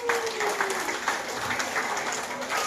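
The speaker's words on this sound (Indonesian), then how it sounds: "bagi tepuk tangan ya" An audience at a Kelabit thanksgiving and naming ceremony claps together in a dense, steady wash of applause, moderately loud with a faint voice and a tonal whistle briefly showing beneath.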